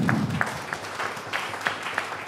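Sparse audience clapping at a talk on gold-standard economics, faint and brief, with a few scattered hand claps rising and fading at a distance.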